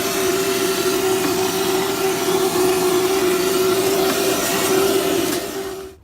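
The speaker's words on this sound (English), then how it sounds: "I'm going to grab a vacuum cleaner." A vacuum cleaner runs steadily at close range, a constant loud whine with a strong hum, used while replacing the fuel filter on a GMC Canyon diesel engine, then cutting off at the end.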